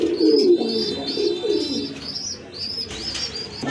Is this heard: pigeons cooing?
yes